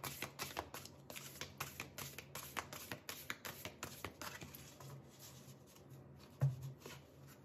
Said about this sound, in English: So let me shuffle the cards and then we get right into it.